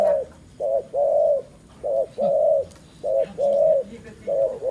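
A spotted dove coos repeatedly in a steady rhythmic pattern, clear and close, with soft background noise between the calls.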